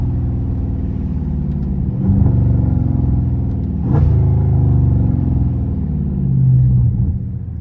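Dodge Scat Pack engine roaring close and loud throughout, with revving surges that swell at about two, four and six and a half seconds while the car is driven hard.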